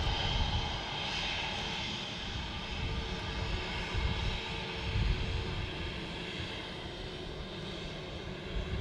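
An aircraft engine roars steadily at Manchester Airport, a continuous broad rumbling drone at moderate distance with no voices over it.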